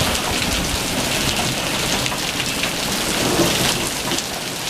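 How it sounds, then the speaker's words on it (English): A hailstorm with thunder beats down steadily and loudly, a dense wash of hail and rain hitting surfaces close by, with low rumbling underneath and no talking. "a little thunderstorm, hailstorm"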